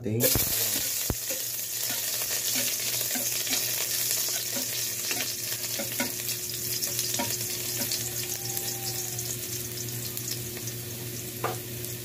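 Ginger, onion and garlic sauté in hot oil for balbacua, a steady sizzle and crackle running throughout with occasional stirring clinks, close and even with no talk.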